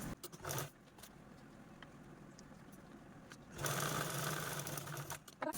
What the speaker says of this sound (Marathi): आतील साईडने डबल फोल्ड करून स्टिच करून घ्यायची आहे